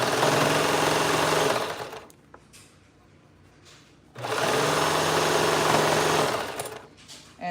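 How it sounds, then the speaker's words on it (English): A sewing machine stitches fabric in two steady sustained runs of rapid mechanical whirring, each about two seconds long, with a brief quiet pause between them, close and loud. "Then I'm gonna go to the next quarter point and stretch to fit and sew."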